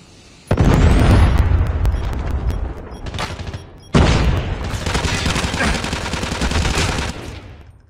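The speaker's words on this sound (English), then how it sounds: "Predator missile inbound." In the Call of Duty Mobile video game, a Predator missile strike hits with a sudden heavy explosion and rumbling debris, then a second loud blast with sustained crackling gunfire and booms close by.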